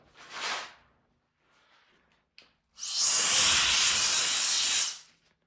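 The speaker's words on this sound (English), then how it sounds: "So we're just blowing away some dust" Compressed air hisses in short bursts to clear dust off an old car headliner before fabric is applied: one brief puff, a pause, then a longer, loud, steady blast that stops abruptly.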